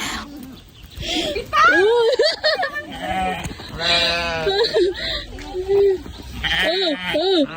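Sheep bleat repeatedly at a sheep farm on Doi Pha Mee, a rainy-season mountain setting: several close, loud wavering cries overlap one another, with people talking among the animals throughout.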